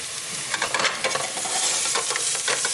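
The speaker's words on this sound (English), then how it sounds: "All our lovely mince goes in." Minced meat sizzling in a hot pan with garlic and softened onion, a dense steady crackle with scraping stir strokes, close and fairly loud, no talking.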